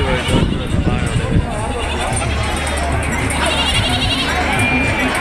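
Sheep bleat repeatedly through a steady crowd murmur at the Kunta sheep market, with voices and livestock noise close by throughout.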